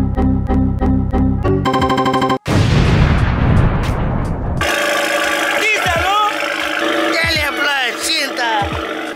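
A tuned 400 HP BMW 335i cranks and fires, then its engine barks into loud, sharp revs, with rising and falling throttle blips and pops, close and aggressive, with brief people talking in the background.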